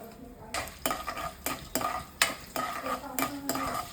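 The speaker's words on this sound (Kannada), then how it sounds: "ಚೂರು ಕಂದು ಬಣ್ಣ ಬರೋ ತನಕ ಹುರ್ಕೊಳ್ಳೋಣ" Vegetable poha being fried in a pan, a steady sizzle broken by repeated sharp scrapes and clinks of a spoon stirring against the metal, at a regular rhythm about every half second, close and loud with no talk.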